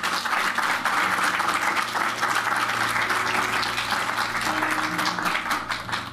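A church congregation applauds during a bilingual Spanish and English youth service, with steady, dense clapping that fills the room throughout and music or organ tones sustained underneath.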